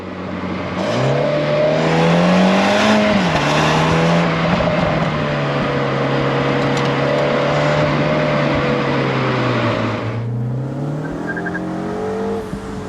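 Engine and exhaust of a new MINI John Cooper Works Convertible accelerating. The pitch climbs and holds, drops around three seconds, holds steady, then eases back and rises again near the end, loud and close throughout.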